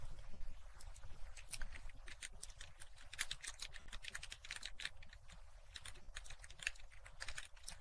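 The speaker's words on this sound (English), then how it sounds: "I'm typing that out because I know I didn't put that in the notes" Rapid, irregular keystrokes on a computer keyboard, a continuous patter of light clicks close by and fairly quiet, with no talking.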